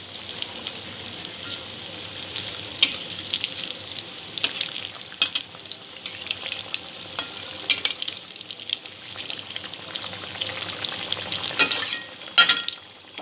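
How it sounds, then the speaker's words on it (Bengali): Egg pakoras bubble and crackle in hot oil over a medium-low flame, a dense continuous sizzle heard up close for several seconds with scattered small pops and faint clinks as they are turned until reddish. "পকোড়াগুলো এপিট ওপিট করে লালচে করে ভেজে নিতে হবে।"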